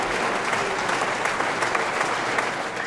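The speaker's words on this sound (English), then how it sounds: "Jerry Nemeth was one of the many family members cheering for the Michigan National Guard's 1430 Engineer Company as they walked off the ice" Family members applaud and cheer as a Michigan National Guard engineer company walks off the ice in an arena, a dense, steady wash of clapping from a large crowd.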